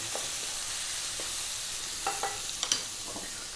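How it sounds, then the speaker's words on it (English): Chicken with bean sprouts and green onions stir-fried in a wok, a steady close sizzle broken by a few sharp scraping and tossing clatters toward the end, no voices. "2 to 3 more minutes, stir frying around"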